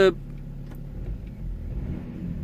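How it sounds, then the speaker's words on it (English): A BMW 730d diesel with a DPF fault and no power accelerates, a low, steady engine drone that rises slightly and holds after a brief opening blip, near and moderately loud with no talk. "I'm gonna accelerate the car"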